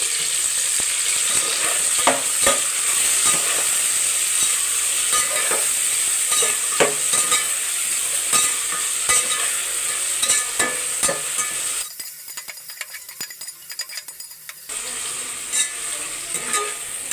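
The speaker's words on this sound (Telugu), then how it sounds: "టమాటా వేసుకొని ఒక టూ మినిట్స్ అనేది ఫ్రై చేసుకోవాలి" Chopped tomatoes fry with onions in hot oil for chicken biryani, a loud steady sizzle close by with frequent spoon scrapes and stirring taps, briefly quieter for a few seconds before the sizzle returns; nobody speaks.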